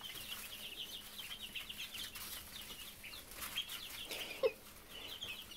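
Young hatchery chicks in a brooder peep in quick, high, overlapping chirps, faint but continuous, with a brief louder flutter or bump near the end.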